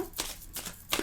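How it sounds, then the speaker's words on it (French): Tarot cards are shuffled by hand in three quick, soft riffling bursts, faint and close with no talking. "on va mélanger les cartes"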